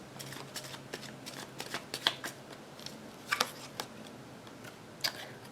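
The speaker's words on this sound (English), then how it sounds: "Now I'm going to need to pull out a whole bunch of cards to figure this out" Tarot cards are shuffled and pulled from the deck in soft, scattered riffles and snaps, with a few sharper flicks standing out from a quiet room background.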